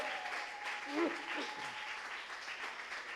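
A church congregation at a Bible study campaign applauds and acclaims the Lord, soft steady clapping heard from some distance with a faint voice rising over it.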